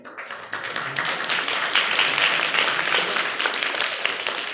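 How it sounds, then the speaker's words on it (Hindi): An audience claps together for children and their teachers at an Urdu-language academy event, a dense, steady burst of many hands that fades out near the end, with no talking over it. "ये छोटी सी ताली बजी"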